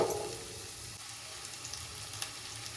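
Onions frying in a pan for home-style egg rice, a steady soft sizzle running the whole time, close and moderate, with a brief louder burst at the start and no talking.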